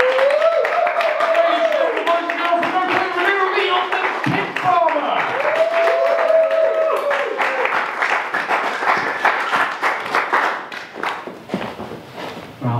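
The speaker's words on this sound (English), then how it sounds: "Let's try a round of applause here." An audience at a punk-themed poetry night gives a round of applause for a performance poet, scattered claps rising under a speaking voice, then thinning into loose, uneven claps and crowd shuffling.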